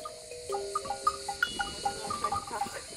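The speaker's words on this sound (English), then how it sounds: "Now she raises goats and makes cheese." Goats on a farm on the Greek island of Ikaria, heard as scattered light tinkling tones and faint animal sounds at a moderate distance with no talking.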